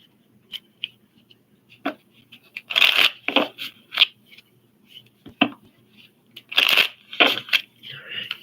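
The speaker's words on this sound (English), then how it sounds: "I'm gonna shuffle them up." Oracle cards shuffled by hand in bursts of crisp riffling and flapping, close and fairly loud, with pauses and small taps between bursts and no talking.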